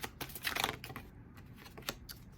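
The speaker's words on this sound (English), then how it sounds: "shuffle for the cards." Tarot cards shuffled by hand make a quiet, steady patter of soft rapid clicks and riffles, close and continuous, with no talking.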